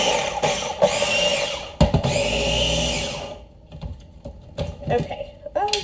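A Ninja blender runs loud and steady for about three seconds, whirring through ingredients for healthy deviled eggs, then cuts off, leaving a quieter kitchen with a few knocks and light handling sounds.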